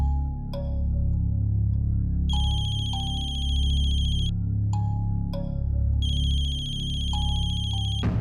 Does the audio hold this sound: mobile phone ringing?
yes